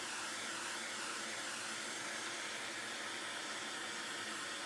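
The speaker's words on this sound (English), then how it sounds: "Here comes the torch. Let's see what happens." A torch flame roars steadily while it heats the boiler of a small model aeolipile on a workbench, a continuous broadband hiss held at an even level throughout, with no voices.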